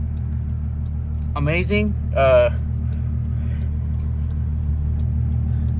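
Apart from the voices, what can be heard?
VW Jetta VR6 engine idling with straight pipe exhaust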